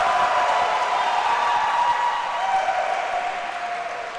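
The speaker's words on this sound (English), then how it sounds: "I think we know who the crowd's cheering for." A crowd at a pickleball league championship match applauds and cheers in a dense, sustained wash of clapping that holds steady, then eases slightly toward the end.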